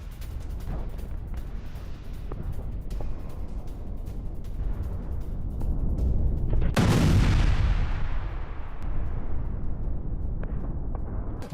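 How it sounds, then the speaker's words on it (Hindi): A distant blast in Kherson from a Russian ground drone booms and rolls away into a long fading rumble, preceded by scattered sharp cracks and pops. "खेरसौन में रूस के ग्राउंड ड्रोन से में विस्फोट"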